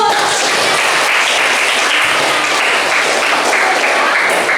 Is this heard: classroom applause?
yes